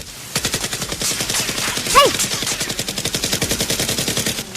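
Rapid bursts of Nerf gun fire in a staged battle between two gangs, a steady rattling volley running throughout with a shouted voice partway through.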